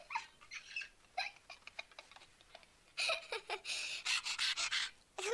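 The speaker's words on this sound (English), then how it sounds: "Like a little panting dog." Rapid, breathy panting like a small dog comes in quick bursts that grow louder and denser toward the end, heard close up over a quiet background.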